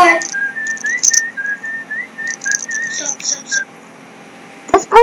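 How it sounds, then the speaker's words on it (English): Eerie whistled tune from a video in a horror game, a melodic line that rises and falls over several seconds, with brief voices and a noise burst near the end. "Dude, she did the whistle."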